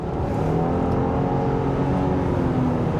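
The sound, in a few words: 2023 Subaru Outback Touring XT accelerating in manual mode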